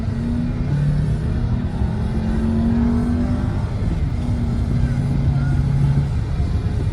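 A Volkswagen Tiguan on the move, its engine giving a steady low hum with mild rises in pitch, loud and constant throughout with road noise underneath.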